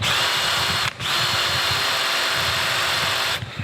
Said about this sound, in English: I'm going to drill it on either side, hopefully get that pin out